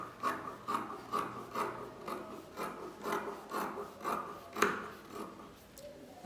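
Scissors cut through shirt fabric in a steady series of rhythmic snips and rasping strokes, about two per second, close and fairly quiet with no talking.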